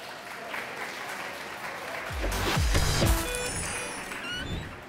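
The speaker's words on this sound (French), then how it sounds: "À ma droite, je vous demande d'applaudir Pierre CrossFit Gecko." Audience applause at a CrossFit competition, steady clapping that swells midway, with low vehicle rumble and passing traffic noise mixed in around the middle of the clip.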